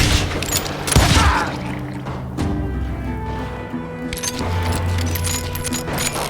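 Gunfire in the Call of Juarez: Gunslinger video game cracks in a quick volley at the start, with sharp shots and rattling metallic clinks, then gives way to a murmuring game background.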